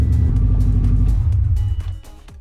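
A 2006 Subaru STi engine cranks and catches, then settles into a loud, rough idle with a deep rumble that fades near the end.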